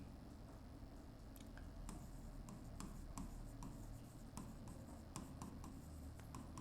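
Pen writing by hand on paper during a bookkeeping lesson on journal entries, with steady scratchy strokes and small ticking taps at a close, quiet level over a faint background hum.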